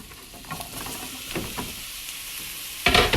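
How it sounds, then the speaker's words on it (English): Mushrooms sauté in butter in a skillet, giving a soft steady sizzle with light scraping stirs, followed by a louder hiss near the end. "In the same skillet, I'm gonna put in the mushrooms"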